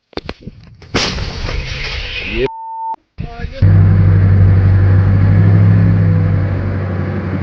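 A single heavy blast from an American self-propelled artillery gun booms out, followed by a roaring engine rumble that fills the rest of the clip.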